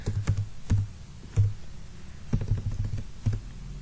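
Code being typed on a computer keyboard in bursts of close, clicky keystrokes with short pauses between groups, with no talking.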